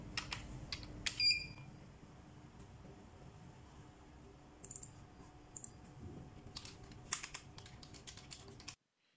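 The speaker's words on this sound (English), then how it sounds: "let's switch to computer 2 by using the keyboard hotkeys" Keyboard keys are pressed on a computer to trigger hotkeys for a USB-C KVM switch, a faint cluster of quick clicks at the start followed by more scattered key taps later in an otherwise quiet room.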